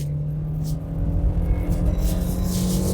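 A 2007 Kia Cerato 1.6 with a manual gearbox drives and accelerates, its engine a steady close rumble that swells slightly as revs climb, with road and wind noise around it.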